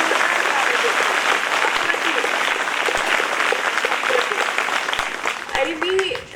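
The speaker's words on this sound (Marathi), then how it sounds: "जोरदार टाळ्या वाजवा आणि माझं मनपूर्वक नमन आहे आपल्या सर्वांना" An audience at a public launch event in Maharashtra breaks into loud, sustained applause, with many hands clapping steadily throughout before the clapping thins and fades at the very end.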